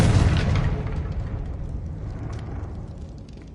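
A Confringo spell blast in Hogwarts Legacy: one loud fiery boom at the start that rumbles and decays slowly over several seconds, with faint crackling debris.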